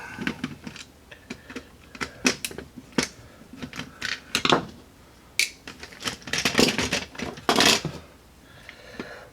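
Internals being stripped out of a Nerf Stryfe blaster, with irregular plastic clicks, snaps and rattles as parts come loose and are set down, close by and in uneven bursts.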